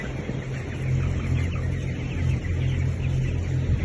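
A flock of 27-day-old broiler chickens on a poultry farm clucks and murmurs continuously, loud and close, over a steady droning hum from the shed.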